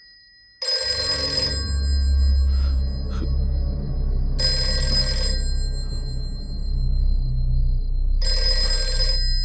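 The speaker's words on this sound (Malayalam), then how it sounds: "ഫോൺ എടുക്ക." A telephone rings in a house in repeated bursts, loud and close, each electronic ring lasting about two seconds with silent gaps between, over a low hum.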